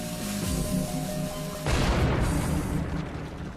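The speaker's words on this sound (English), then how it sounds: "Michael and Peter use a replica cannon from the same era as Mehmet's bombards" A replica period cannon fires, giving one loud, close boom with a broad rumbling blast that follows a lower steady background.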